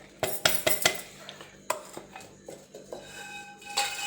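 A spoon scrapes and clinks against a pan while ingredients for a drumstick-leaf spice powder are mixed, giving a string of sharp metallic taps and stirs close by, with quieter gaps between.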